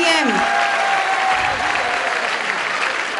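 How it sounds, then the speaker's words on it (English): An audience claps for a competing team at a results announcement, a brief dense burst of applause that stays steady with a voice trailing off at the start. "Can we applaud the team by BITM?"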